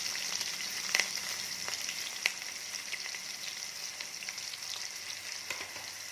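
Sliced onions, four green chillies and a little garlic fry in oil in a pan, a soft steady sizzle with crackling pops and occasional stirring clatter, close and quiet with no talk.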